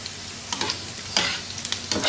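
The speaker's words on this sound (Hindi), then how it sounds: "अब एक दरमियाने साइज़ का प्याज स्लाइसिस में कटा हुआ शामिल कर देंगे।" Sliced medium onion frying in a few spoons of oil on a flat tawa, a steady soft sizzle with intermittent scraping stirs and brief louder bursts, close and alone without voices.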